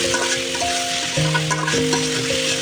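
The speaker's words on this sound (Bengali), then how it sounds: "মাছগুলো ভেজে নিলাম" Tilapia fish frying in oil on a clay stove, a dense continuous sizzle heard up close, with faint chicken clucks in the background.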